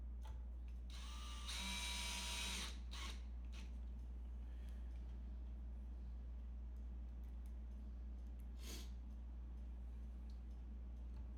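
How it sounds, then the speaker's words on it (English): A short burst of power drilling during a bridge install, whirring for about two seconds, followed by quieter handling noises and a brief second whir. "Guess what? I'm using a drill for it."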